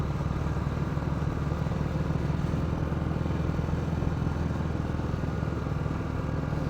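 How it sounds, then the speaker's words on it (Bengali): A motorcycle engine labours steadily up a steep hill road in North Bengal, its low droning hum continuous and close with no pauses or talk. "বাইক আমার ঝরঝর হয়ে গেল এটুকু উঠতে গিয়ে।"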